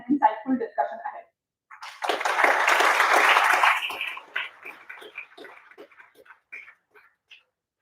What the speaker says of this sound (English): please join me in giving a warm round of applause to our distinguished panel